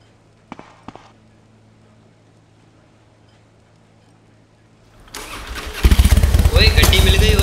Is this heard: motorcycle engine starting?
yes